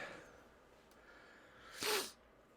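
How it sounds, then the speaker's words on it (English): A single sharp sneeze bursts out near the end, preceded by a quiet breathy intake. "my nose has decided that I want to sneeze all day today on stream"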